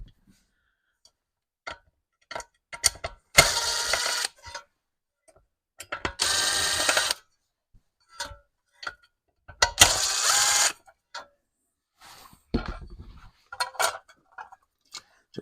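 Screws are being backed out of a dusk-to-dawn LED light fixture, making close, loud bursts of ratcheting, clicking driver noise in three main runs separated by small taps and handling clicks.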